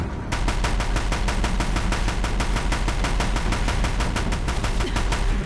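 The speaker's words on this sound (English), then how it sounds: "Deathbringers keep firing" Deathbringer machine guns in the Horizon Zero Dawn video game fire a long, steady rapid burst of evenly spaced shots, loud and continuous throughout with no speech.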